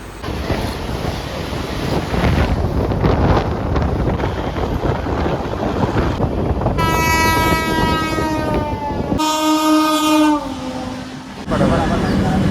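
A train rumbles past at close range, loud and continuous, and a long blaring horn sounds twice, cutting in over the roar of the wheels.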